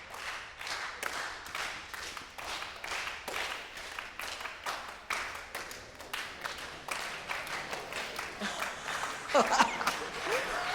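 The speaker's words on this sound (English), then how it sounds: "And we're just going to clap." A group in a wind ensemble session clapping together, loosely synchronized sharp claps in a repeating rhythm, moderately near, with some scattered extra claps toward the end.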